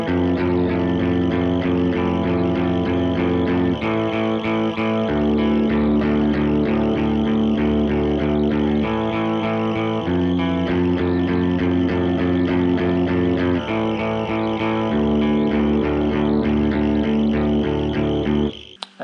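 Electric guitar playing the clean intro riff of a song, a picked open-string figure followed by repeated strummed chords, steady and loud with effects, sustained throughout with no talking.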